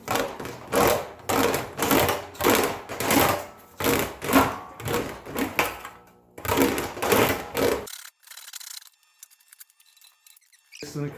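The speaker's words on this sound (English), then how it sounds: "When it comes to English wheels, I think this one's from Harbor Freight, but it works better than any other wheel I got." A Harbor Freight English wheel smooths a steel patch panel for a 1938 Pontiac roof chop, giving repeated rhythmic rolling strokes that are loud and close, then stop at about eight seconds.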